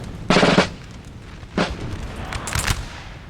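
Musket volleys in the video game Napoleon Total War, set at the 1814 Battle of Paris, crack out as three ragged bursts of gunfire at moderate distance over a low battlefield rumble.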